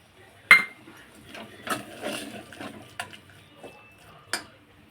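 Sugar and cardamom powder stirred together in a pan, a few sharp metallic clinks and scrapes of a spoon against the pan at irregular intervals, close and fairly quiet.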